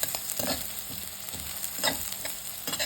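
Sliced bitter gourd frying in hot oil and being stirred, a steady close sizzle broken by repeated scraping stir strokes, with no voices.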